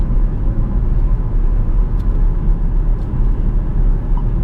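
A Jaguar XF 5.0 V8 S from 2010 is driven in race mode, its engine giving a steady, loud, low roar that stays even throughout with no talking.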